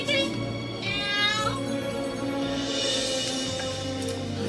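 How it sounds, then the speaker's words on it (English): A cat meows several times in an indoor room in a 1989 comedy film, the rising and falling calls standing out over a steady background bed. "There was a cat in here"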